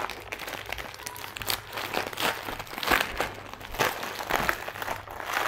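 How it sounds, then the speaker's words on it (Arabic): A plastic snack bag of Domty Double, an Egyptian cream-cheese-flavoured snack, is torn and handled. It gives steady, close crinkling and crackling throughout with small crunchy bursts and no talk. "معلش بقى قطعت الكيس لان بص الكيس جوه لازق."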